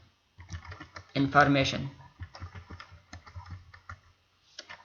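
Typing on a computer keyboard while entering HTML table caption text: rapid, irregular clicks of varying loudness, under and between a man's speech.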